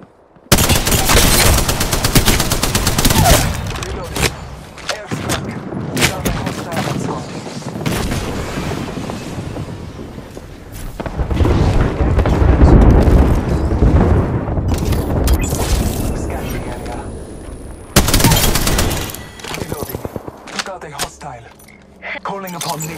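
Rapid automatic gunfire and booming shots from the video game Apex Legends, dense and loud almost throughout, with game character voices and a player talking over the fighting.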